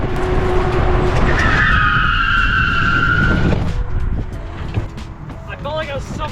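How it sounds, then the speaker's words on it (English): A car skids hard across loose gravel while braking, a long scraping tire squeal rising over engine noise, with excited voices shouting nearby throughout. "As soon as I hit that cart, I'm slamming on the brake."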